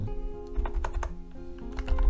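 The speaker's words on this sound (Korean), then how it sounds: "키워드 치시고" Rapid keystrokes on a computer keyboard as hashtag keywords are typed in, an uneven burst of clicks and taps running close and steady for about two seconds, with no talking.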